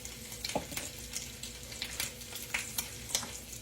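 Bacon frying in a skillet in a home kitchen, a continuous close crackling sizzle dotted with sharp pops and small spatters, steady and moderately quiet, no voices.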